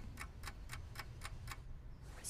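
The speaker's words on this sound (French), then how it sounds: "on met un réveil matin qui fait tic-tac derrière son panier" A wind-up alarm clock ticks behind a pet's basket, six sharp evenly spaced ticks close by over a low background hum, followed by a brief brighter sound at the very end.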